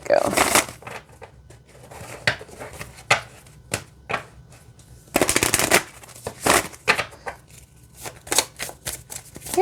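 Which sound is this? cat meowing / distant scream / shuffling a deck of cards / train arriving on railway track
shuffling a deck of cards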